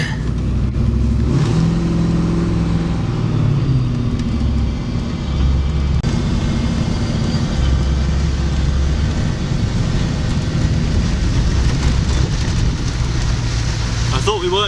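Land Rover Defender 90 with a 4.6-litre Stage 3 V8 drives along a cold country road in Norfolk, its low engine drone steady and close throughout, with road and wind noise and occasional speech from occupants.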